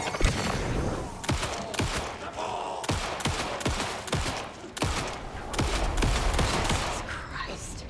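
Rifle rounds fire in Alan Wake 2 in rapid, loud, close bursts that run across the whole stretch with only short gaps between the volleys.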